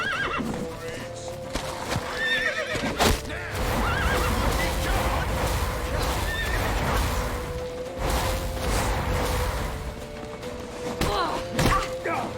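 A horse whinnies amid galloping hoofbeats and thuds in a video game, layered with a busy game soundscape and occasional voices.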